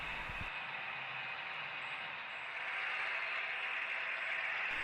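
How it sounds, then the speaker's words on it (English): A super-detailed HO scale Athearn SD40-2 model locomotive runs past on a large DCC layout, giving a steady close-up rushing hiss and hum of motor and wheels that holds for several seconds. "This is actually the train passing through Roseville right now."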